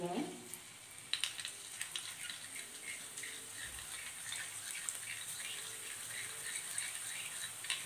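Boondi batter drops into hot oil and fries with a bright, continuous hiss and sizzle, faint and steady, with a few crisp taps from the ladle early on.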